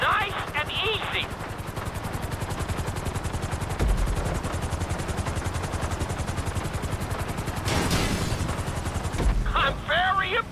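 Helicopter in Grand Theft Auto V setting down on a landing pad, a steady rapid rotor chop running loud throughout, with a burst of extra turbulence near the end and a voice speaking briefly over it.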